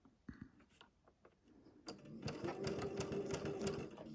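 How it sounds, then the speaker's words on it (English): A home sewing machine stitches quilt fabric for a butterfly quilt, starting with a few soft clicks and taps, then settling into a loud, close, steady mechanical whir with rhythmic needle thumps. "Take a couple stitches so I can get into my fabric."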